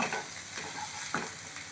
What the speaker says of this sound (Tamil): நல்லா கலந்து நல்லா பச்சை வாசனை போகிற அளவுக்கு வதக்கிக்குவோம்